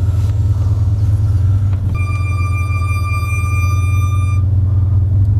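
BRABUS Mercedes S63 AMG W222 with 750 HP reversing, a loud steady low engine rumble with a high reversing warning tone that sounds for a couple of seconds in the middle.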